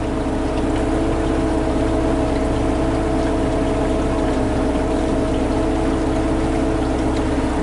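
A 1963 Thompson 18-foot runabout boat running at speed on a lake, its engine giving a loud, constant low rumble and droning hum with steady water rush and no pauses throughout.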